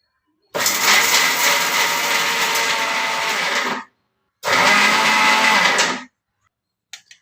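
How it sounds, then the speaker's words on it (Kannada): A mixer grinder blends sesame seeds and jaggery in two loud bursts, a long whirring run of about three seconds, then a short pause and a second shorter run, followed by a faint clatter. "ಇದನ್ನು ಒಂದ್ಸಲ ಮಿಕ್ಸಿಗೆ ಹಾಕ್ಕೊಂಡು ಆಮೇಲೆ ಒಂದು ಏಲಕ್ಕಿ ಸೇರಿಸ್ಕೊಂಡು ಮಾಡ್ತೀನಿ."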